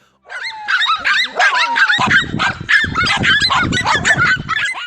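Several dogs bark, yelp and whimper frantically while fighting a lunging reptile outdoors, a dense, loud, overlapping clamor of yelps and barks with a rough scuffling undertone through the second half.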